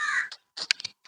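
A person mimics a crow, giving a few short, harsh, nasal caws one after another, close to the microphone with brief silences between them.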